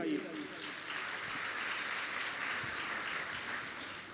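A congregation at a Christian worship service claps hands together in steady, sustained applause, a continuous dense patter at moderate loudness lasting throughout.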